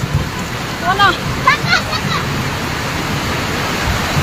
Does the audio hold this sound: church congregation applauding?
no